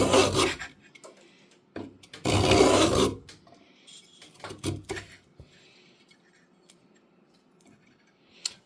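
A freshly sharpened woodworking chisel pares a piece of wood in a few rough, rasping strokes, close and loud, with quieter scraping between them.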